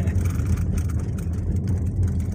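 Steady low rumble of tires rolling on rough asphalt, heard from inside a Toyota Calya car on a main road, a continuous droning roar with no talk.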